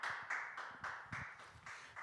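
A small group claps in slow, distinct, evenly spaced bursts to welcome a professor onto a broadcast lecture stage. The claps are faint and somewhat distant, about seven of them over two seconds.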